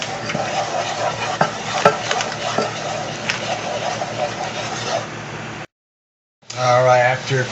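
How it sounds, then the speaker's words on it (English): Flour being stirred constantly into hot fat in a pan for a roux, for a bacon mac and cheese pie, giving a steady scraping, faintly sizzling texture with clicks of the utensil, a brief silent gap, then louder stirring. "you're going to add the flour just a little bit at a time and stirring constantly"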